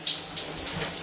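Cold shower water running steadily from the showerhead, a continuous close hiss and splatter with no voices.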